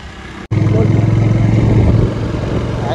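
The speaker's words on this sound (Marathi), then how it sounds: "गाड्या बघा गाड्या बघा कशी गर्दी आहे" A motorbike rides through crowded road traffic on the way to bullock cart races. The bike's engine drones loud and close with a steady pulse after a brief dropout, and the surrounding traffic merges into a constant rumble.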